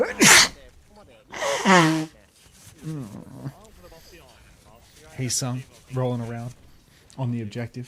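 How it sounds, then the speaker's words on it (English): A caster sneezes during an OWCS Japan Overwatch esports broadcast: a sharp, loud burst near the start and another snorting burst shortly after, set among ongoing excited commentary speech. "I have to sneeze."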